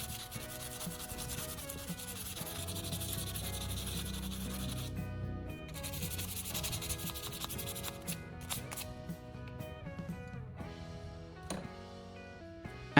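Steady, close rubbing strokes of sandpaper across a pruning shears blade, a continuous scratchy sanding sound with no talking.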